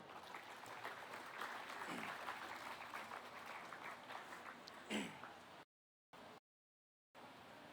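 Audience applause at a county beef show after a market heifer class, a steady patter of clapping from a crowd for about five seconds before it breaks off.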